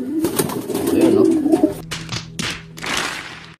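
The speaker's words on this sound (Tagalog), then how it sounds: "Yung isang makulit na ibon natin, si Natnat." Pigeon cooing near a loft, a racing pigeon banded for a MacArthur race, with low soft coos and some fluttering bird sounds over about four seconds; no talk.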